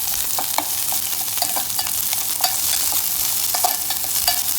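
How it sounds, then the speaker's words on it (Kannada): Onions and curry leaves fry in oil for a traditional sambar, giving a constant close hiss of sizzling with scattered soft clicks and taps from stirring, and no voices. "ಕರ್ಬೇವಿನ ಸೊಪ್ಪು ಮತ್ತು ಹೆಚ್ಚಿರೋಂಥ ಈರುಳ್ಳಿ ಹಾಕ್ಕೊಂಡು ಫ್ರೈ ಆಗೋಣ"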